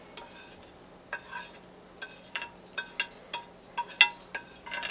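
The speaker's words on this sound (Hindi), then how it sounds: "हल्के हाथों से हम इसको मिक्स कर लेंगे।" Semolina roasted in plenty of ghee is stirred in a pan over a low flame for halwa. A spoon scrapes and clinks against the metal in a steady series of close taps and scrapes, with no talking.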